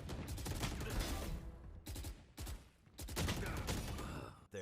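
Phantom rifle fire in Valorant rattles out in rapid sustained bursts, loud and close, with brief gaps between sprays and a final clipped shot at the end.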